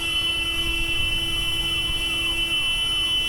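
An ambulance siren wails continuously in Gurugram traffic with repeating rising and falling sweeps under a steady drone of road noise.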